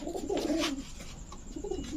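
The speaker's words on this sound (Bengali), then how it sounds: "চকো রেসার একটা নর কবুতর" A male chocolate racer pigeon coos close by in a few soft, throaty rolling phrases against quiet background noise.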